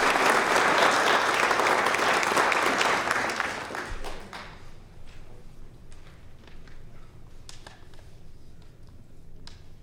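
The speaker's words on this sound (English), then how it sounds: "Just give him a round of applause, ladies and gentlemen" Audience applause at a county board of commissioners meeting in Taos County: a loud burst of clapping for about four seconds, then fading to scattered claps and room noise.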